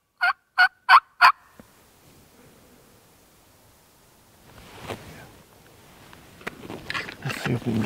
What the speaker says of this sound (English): We got one that was gobbling on the roost over here.